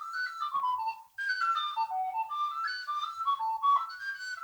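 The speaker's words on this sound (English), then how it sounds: "It's got the old whistle sound" A tin whistle plays a lively melody in a studio album recording, clear and close with no added EQ, sliding through ornamented notes with a slight rasp on the higher ones.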